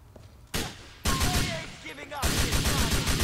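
Dense gunfire breaks out during the bank heist shootout in the video game GTA IV, with rapid bursts of loud shots that start abruptly and continue in heavy volleys.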